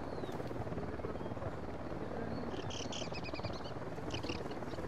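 A steady, dense helicopter rotor roar in the video game Tom Clancy's Ghost Recon Wildlands fills the clip from start to finish, with faint high chirps flickering briefly over it.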